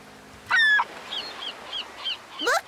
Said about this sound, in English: Look, Daddy! Seagulls!